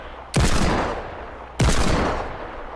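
Two loud, close gunshots in Fortnite, each a sharp blast followed by a decaying echo, about a second and a quarter apart, with no talking over them.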